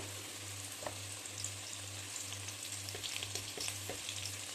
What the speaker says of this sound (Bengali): হালকা করে ভেজে নেব আলুগুলো